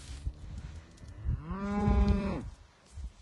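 A cow in a field gives one long, loud moo, a drawn-out lowing call near the mic. A fainter lowing sound comes just before it, with outdoor background noise around it.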